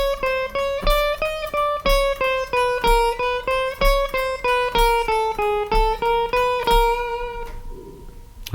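Triplets picked on a guitar run up and then back down a scale, each note repeated in even groups of three with crisp, regular attacks. The last note rings out alone and fades, with no talking over it.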